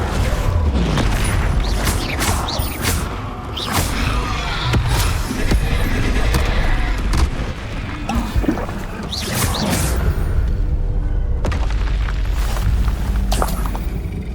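Confringo fire spell from Hogwarts Legacy, a fiery magic blast with loud booming bursts and crackling, rumbling debris over a dense game soundscape, repeated hits across the span without speech.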